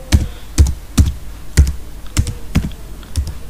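Typing on a computer keyboard, with about eight distinct key clacks in an uneven rhythm, close and fairly loud with no talking.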